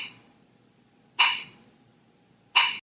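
A metronome set to 44 beats per minute gives two sharp, close clicks about one and a half seconds apart, with near silence between them.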